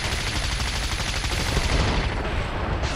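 Dense, continuous gunfire and grenade blasts from hip-fire shooting in the video game Starhawk, loud and unbroken for the whole stretch with no talk.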